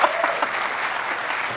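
A live audience breaks into brisk applause, a dense wash of many clapping hands, fairly loud and even throughout with no talking over it.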